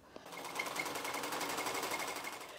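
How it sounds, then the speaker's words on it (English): A borrowed sewing machine runs in a steady, continuous mechanical whir, close and even throughout with a brief tap at the start. "the single mother of two decided to borrow her sister's sewing machine"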